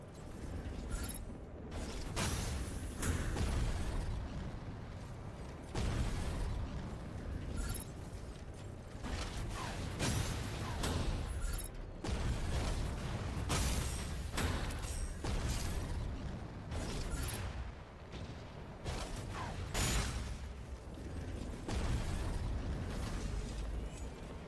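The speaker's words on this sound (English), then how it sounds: "Keep your distance from the target and fire the heavy missile launcher at it." Heavy missile launcher firing in the mech combat game Mecha Break, a continuous stream of mechanical clanks, creaks and bursting pops layered over a dense low rumble, loud and steady throughout with no talk.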